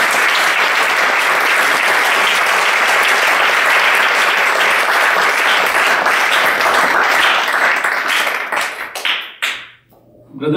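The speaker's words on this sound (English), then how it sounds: "Please give a big round of applause." A Chicago lecture audience gives a big round of applause, with dense, loud, continuous clapping from a large crowd that keeps up for most of the stretch, then tapers into scattered claps and drops away near the end.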